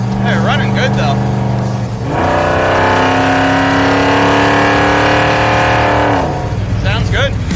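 A drag race car built for ice drag racing runs loud and close, its engine holding a steady, harmonic-rich roar for several seconds, with people talking over the idle before and after the run-up.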